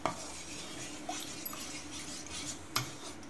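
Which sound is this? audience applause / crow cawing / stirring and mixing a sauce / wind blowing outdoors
stirring and mixing a sauce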